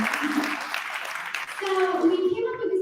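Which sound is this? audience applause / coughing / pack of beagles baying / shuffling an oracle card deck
audience applause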